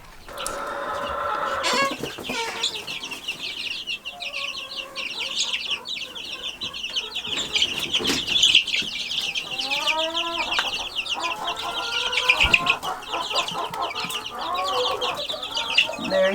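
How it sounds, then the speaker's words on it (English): Baby chicks cluck and cheep steadily in a farm coop where ducklings are also kept, a busy chorus of chirps and clucks up close that runs the whole time with no talk over it. "And aren't these baby chicks getting big?"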